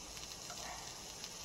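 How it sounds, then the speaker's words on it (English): Steak sizzles on the cooler side of a grill alongside mushrooms and onions, a faint steady crackling hiss throughout. "It's already starting to sizzle."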